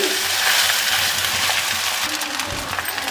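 Cooked, cooled rice goes into a hot pan with vegetables for veg fried rice, giving a steady, close hiss of sizzling oil with faint stirring scrapes and no talking.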